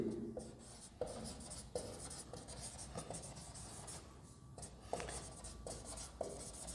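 An equation is written out by hand during a tenth-grade quadratic equations revision lesson, giving a steady run of scratchy pen-on-surface strokes with small taps as each character starts, close and fairly quiet, with no talking.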